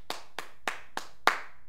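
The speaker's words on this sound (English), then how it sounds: "some clapping" Five single hand claps at a steady rhythm, close to a microphone during a sound test, each a sharp crack with a short ringing tail, the last one noticeably louder, in an otherwise quiet room.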